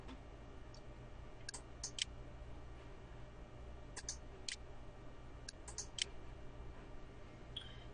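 Faint, sharp mouse clicks in a quiet room, a scattering of single and double clicks at irregular intervals over a low steady background hum.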